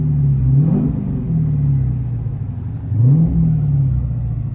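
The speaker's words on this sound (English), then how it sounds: "revving it up, making sure you can hear that V8 rumble" Two throaty revs from the 6.4-litre V8 of a 2018 Dodge Challenger R/T 392, each rising from a deep idle rumble and falling back, loud and close, with no talking.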